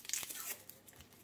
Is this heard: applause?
no